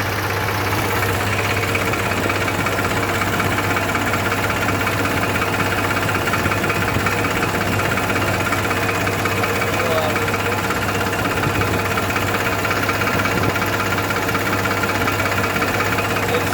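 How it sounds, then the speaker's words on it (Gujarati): A tractor engine idles and drones steadily while driving a tractor-operated sprayer pump in a standing bajra millet crop, a loud continuous low hum with mechanical knocking throughout. "આ આપણે સ્પ્રે છે એ ટ્રેક્ટર ઓપરેટેડ સ્પ્રેયર પંપથી કરી રહ્યા છીએ"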